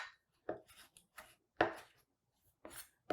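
Leafy greens for a Three Sisters salad being chopped or torn apart by hand, heard as several short, crisp, close bursts of crunching and ripping separated by brief pauses, with no talking.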